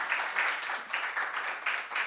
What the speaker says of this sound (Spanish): les damos un aplauso, por favor